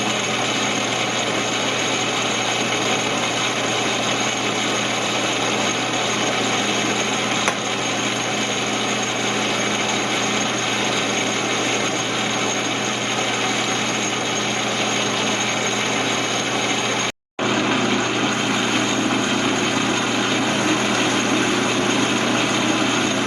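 An Atlas 12 metal lathe cuts gear teeth with a thicker cut, producing a loud, continuous mechanical drone with a steady cutting scrape, broken by one brief dropout near the end.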